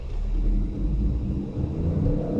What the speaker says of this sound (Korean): 출발할 때부터 부드럽게 출발이 됩니다